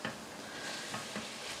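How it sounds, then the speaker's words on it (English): Onions fry and sizzle in a hot pan on a stovetop hob for a venison ragu, giving a steady, close, bright crackling hiss with no voices over it. "So we're just going to sizzle those away just until the onions start softening"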